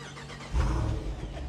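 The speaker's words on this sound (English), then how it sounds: "All right, 392 Jeep for startup." A Jeep with a 392 engine starts up, a quiet moment broken by the starter and a sudden deep roar that settles into a loud, rumbling idle close by.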